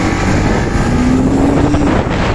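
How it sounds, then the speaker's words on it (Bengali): BMW G310 R motorcycle engine running while riding, a steady, close, continuous drone mixed with heavy wind rush across the microphone. "ইঞ্জিন সাউন্ড তো হালকা চেঞ্জ হয়েছে বুঝলাম, আর টানও বেড়েছে আগের থেকে একটুখানি।"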